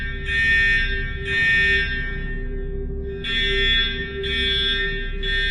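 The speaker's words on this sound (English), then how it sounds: "the fire alarm exploded with shrieking sound." A fire alarm shrieks in repeated bursts, a harsh high buzzing tone pulsing on and off in a steady rhythm over a constant low hum, loud and close.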